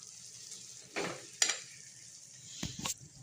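Grated carrots for carrot halwa roast in ghee with a soft continuous sizzle, broken by a few louder stirring scrapes and clinks of a spoon against the pan.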